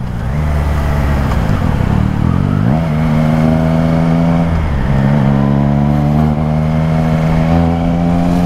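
A Triumph Trident 660 motorcycle engine revs hard on the throttle, climbing in pitch through two sharp rising pulls and then holding a steady, loud drone close by.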